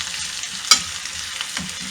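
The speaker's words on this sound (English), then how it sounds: "sauteing onions and pickled peppers" Onions and pickled peppers sauteing on a Trangia Mini stove give a steady, soft sizzle with a few brief stir clatters, close and moderately quiet with no talking.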